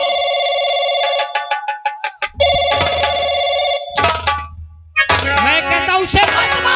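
A telephone in an old 1990s Hindi film drama rings loudly in repeated bell-like bursts, broken by short gaps, with other sounds and a low rumble joining partway through.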